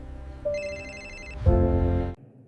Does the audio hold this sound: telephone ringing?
yes